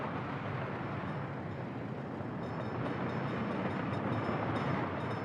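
A train rolls past in the city-building game Workers & Resources, giving a loud, continuous rumbling wash that holds steady for several seconds without any talk.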